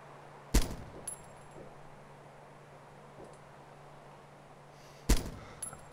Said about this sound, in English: Shooting at us now.